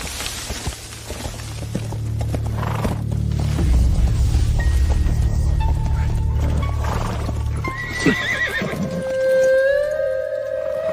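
Horses neigh and whinny loudly over steady clip-clopping hooves in a wuxia-style drama scene, with several drawn-out calls rising toward the end.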